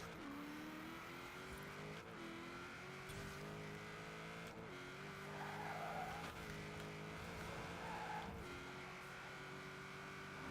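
In Forza Horizon 4, a V8-swapped car of over 1,000 horsepower accelerates hard, its engine note climbing through several gear changes with brief dips, loud and sustained, with some tire squeal and no talking.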